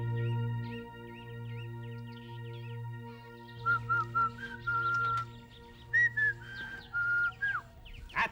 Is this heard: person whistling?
yes